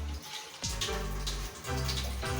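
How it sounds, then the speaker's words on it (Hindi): Water from a rinsed jug splashes into masala frying in a pan for aloo matar shorba, a short, fairly quiet pour that comes in a couple of bursts. "और थोड़ा सा ये जग धो के पानी भी हम इसके अंदर ऐड कर"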